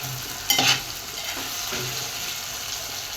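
Whole star anise, cloves and peppercorns sauté in oil with a close, even hiss and crackle. A quick metallic clink of the spoon against the pan comes near the start.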